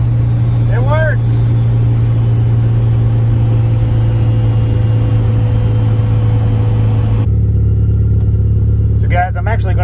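A turbocharged car engine with a budget boost controller drones loud and steady under load, then drops sharply in pitch and level near the end as it hits boost cut, while a person's voice is heard briefly at the start and end.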